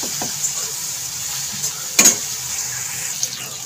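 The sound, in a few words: spices with cumin and salt being sautéed in a pan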